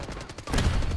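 Rapid automatic PDW gunfire in Black Ops 6, a tight burst of close, loud shots in quick rhythm, followed by a denser roar of in-game firing and noise.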